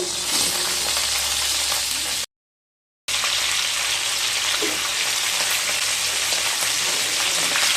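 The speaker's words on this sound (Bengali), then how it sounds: "এবার ফুলকপিগুলোকে ভেজে নেব" Cauliflower florets, drained from water, frying in oil with a dense steady crackling sizzle like rain on a surface, interrupted by a short cut of silence before continuing evenly, with no talking.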